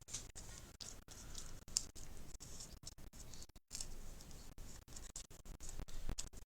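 Scissors snipping decoupage paper close up, a quick run of crisp cuts with short pauses between them, heard alone without talk.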